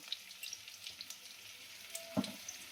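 Fish fries with turmeric and green chilies in a pan for a Bengali katla curry, a faint, soft sizzle with a few small crackles and one brief louder pop.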